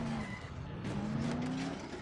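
A car in Dead Island drives fast and skids, its engine droning steadily while tires squeal in drawn-out tones through a corner, fairly quiet and with no talk over it.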